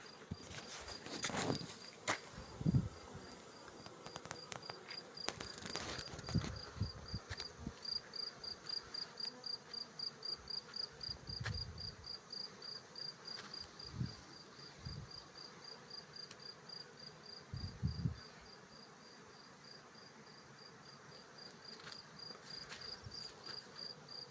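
Honey bees buzz steadily around a garden apiary where lavender is in bloom, a continuous close drone with individual bees passing louder near the microphone now and then, and no voices.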